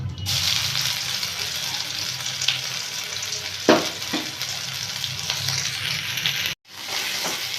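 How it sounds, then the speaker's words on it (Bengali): Mashed pea paste dropped into hot oil with panch phoron and green chillies, setting off a loud, steady sizzle with a few sharp spits and a brief cut near the end. "এবার এতে আমি মটরশুঁটি বাটাটা দিয়ে দেবো।"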